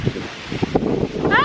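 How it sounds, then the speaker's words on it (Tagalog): Strong outdoor wind buffets the microphone on a farm, a loud continuous roaring rumble with a person speaking over it. "Lakas ng hangin."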